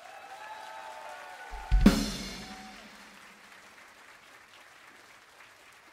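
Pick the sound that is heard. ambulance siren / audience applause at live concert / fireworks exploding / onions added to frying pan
audience applause at live concert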